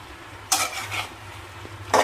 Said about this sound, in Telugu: ఇట్లా కలిపేసుకొని మూత పెట్టేసుకోవాలి.